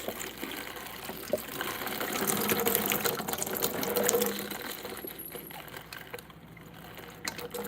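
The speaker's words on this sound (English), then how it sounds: "Rinse, rinse, rinse." Collard greens rinsed under running kitchen sink water, giving a steady close splashing stream with shifting gurgles and leafy rustling throughout, with no voices.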